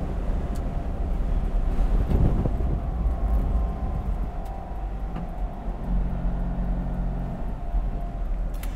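Fiat 500 Lusso small city car driving, heard from inside the cabin: a steady low engine and road rumble with wind noise, continuous and fairly loud, with no talking.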